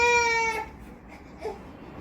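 An infant wails in a brief burst, a loud tonal cry that breaks off after half a second, then gives way to faint whimpering sounds against a quiet room background.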